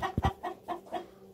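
Chickens sick with mycoplasmosis, breathing heavily with open beaks, give several short soft clucks in an uneven rhythm, close by and alone.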